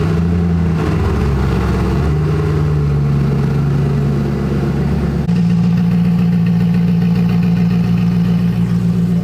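A Pagani Zonda supercar engine running in the snow at St. Moritz, a loud, close, steady idle with a deep rumbling tone that shifts pitch midway and then settles into a slightly higher, even drone.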